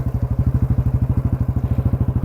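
Motorcycle engines riding off-road, a loud close rapid thumping exhaust beat pulsing evenly and steadily with a low throbbing rhythm, no voices over it.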